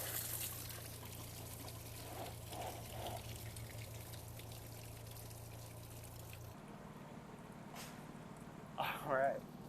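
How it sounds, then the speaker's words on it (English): Radiator fluid drains from a Porsche Boxster's cooling system into a drain pan, making a steady trickling, pouring sound over a low hum, with a brief splashy flutter near the end. "letting the rest of the radiator fluid drain out of the system"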